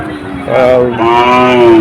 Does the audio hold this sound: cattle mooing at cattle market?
yes